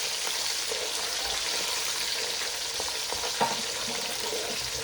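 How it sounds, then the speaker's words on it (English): Oil frying with smoked dry prawns in a pan for Ofada stew, a steady close hiss and crackle of sizzling that holds evenly throughout with a few faint stirring clicks, no one speaking. "let that oil fry up a little bit"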